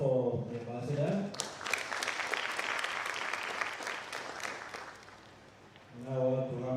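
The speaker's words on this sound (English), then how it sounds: "Another clap for the ambassador." Audience applause for an ambassador at an international relations and diplomacy forum, a dense, steady clapping that swells and holds for several seconds, with a speaking voice at the start and again at the end.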